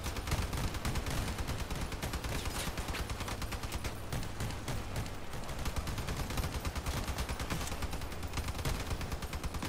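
Rapid, continuous gunfire aimed at vehicles and their tires in the Crossout combat game, dense bursts of shots rattling close and loud with no pauses.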